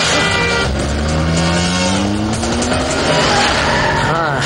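A car speeds and then brakes hard, tires squealing loudly over a roaring engine in a tense film scene, with voices shouting over the noise.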